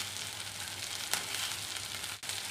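Green chilies, bell pepper and carrot sauté in a hot pan with a steady, close sizzle, a continuous hiss with a brief stir or clatter partway through.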